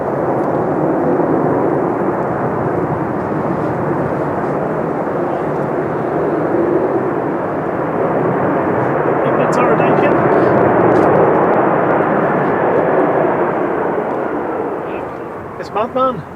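Ryanair Boeing 737-800 jet on approach on a windy day, a continuous loud engine rumble and rush that holds steady and then fades near the end.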